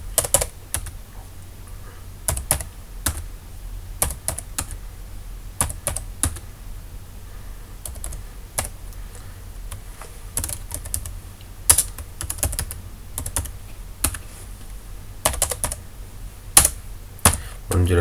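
Rapid, close clicking of a computer keyboard as data is entered into an Excel spreadsheet, bursts of keystrokes with brief pauses and occasional louder key taps, no speech.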